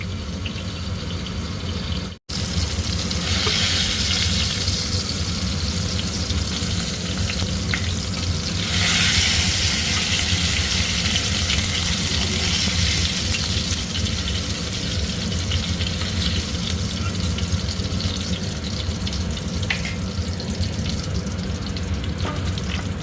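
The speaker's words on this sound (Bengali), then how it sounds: "दो टमाटर भी फ्राई कर लेंगे।" Two tomatoes frying in a hot pan give a loud, steady sizzle that runs unbroken. A sharp click comes early, and no one speaks.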